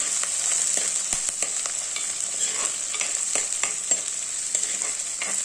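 Onions, green chillies and spices sizzle in a hot pan for a fish curry, with a steady frying hiss and a spoon scraping and stirring in short strokes, close up and with no voices.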